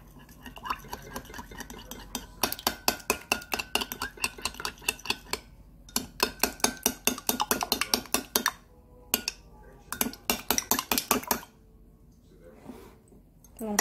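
Egg whites being briskly whisked in a bowl for a Japanese rolled omelette, producing rapid rhythmic clinking of utensil against the bowl in several bursts separated by short pauses, close up with a faint voice in between.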